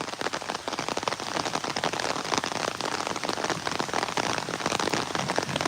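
Rain pours down in a constant close rush of drops striking surfaces, an unbroken dense patter lasting several seconds with nobody speaking.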